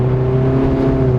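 The engine of a Simca Rallye 2 rally car pulls hard on the throttle right after braking, a loud steady close-up drone with a strong tone throughout the short burst, and no voices.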